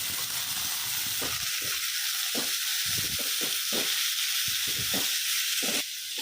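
Cooked flat beans are sautéed in a tempering over a medium flame, with continuous frying sizzle and regular spoon strokes against the pan, close and steady throughout.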